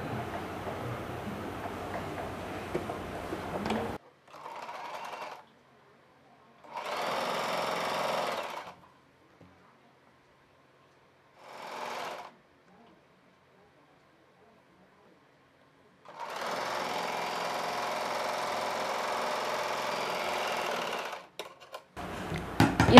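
Sewing machine stitching the folded hem edge of a kids' summer frock, running in several bursts of steady whirring separated by pauses, loud and close with no talk.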